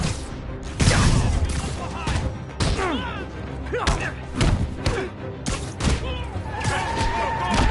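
Enemy gunfire in the Spider-Man PS4 video game comes as scattered heavy shots and thudding impacts amid swooshing action sounds, while voices talk over the fight.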